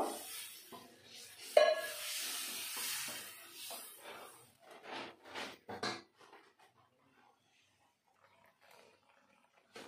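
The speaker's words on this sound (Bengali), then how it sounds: "মশলাটা কষানো হয়ে গেছে, এখন আমি দিয়ে দেবো নারকেলের দুধ" Coconut milk hits frying masala for a Bengali prawn malai curry, a hiss and sizzle with a sharp clatter of utensils, followed by scattered stirring scrapes that fade toward near silence.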